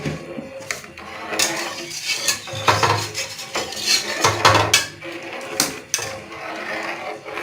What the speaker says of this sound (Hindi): और इसमें चम्मच चलाते रहना है